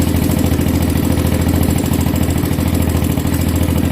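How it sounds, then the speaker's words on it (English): A 1984 Honda ATC 200x three-wheeler with a 200s engine swap idles while warming up, making a loud, steady, close-up putter with a rapid even knock throughout. "as it warms up, it actually runs quite well"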